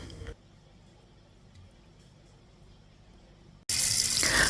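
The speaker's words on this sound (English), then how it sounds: "I'm just gonna be washing my black peas." Tap water gushes loudly into a sink for washing black peas, bursting in abruptly near the end after a long stretch of quiet room tone.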